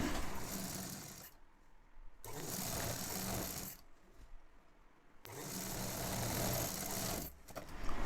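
A sewing machine stitches the top edge of a cigarette pant, folded over, in three fast whirring bursts separated by short pauses, close and clear with no talk.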